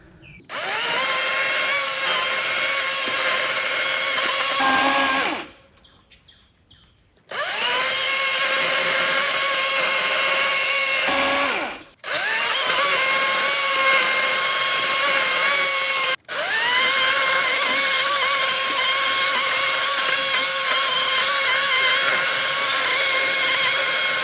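An 80-volt Kobalt electric chainsaw whines steadily through long cuts into a 3.5-foot-diameter oak tree, pausing briefly three times before starting up again, loud and close.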